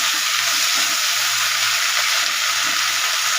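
Drained spinach dropped into a hot pan for a Bengali masoor dal, giving a steady, loud broadband sizzle that holds evenly throughout with no talking.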